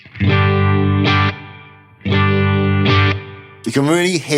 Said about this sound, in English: you're not getting the vibe effect on the tails of the reverb